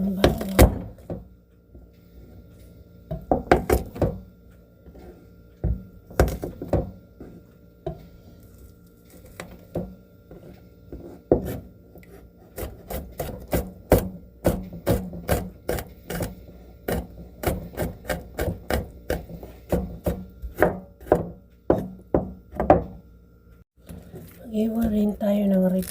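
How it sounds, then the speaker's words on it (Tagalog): A knife slicing garlic on a cutting board, sharp repeated chopping taps in irregular bursts, then quicker runs of strokes, close and clear over a quiet background. "Mag-iwa na rin tayo ng bawang."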